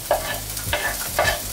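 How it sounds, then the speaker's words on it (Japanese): Chopped onion with garlic is stir-fried in a pan, giving a steady close sizzle with a few sharp scraping stirs of the utensil at regular intervals and no voices. "炒めます"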